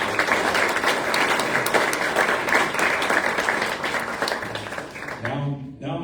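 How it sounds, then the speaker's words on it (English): Dense, sustained applause from a crowd at a Rotary gavel exchange event honouring named members, steady and loud for several seconds before it thins and a voice begins speaking at the end. "Let's give a round of applause."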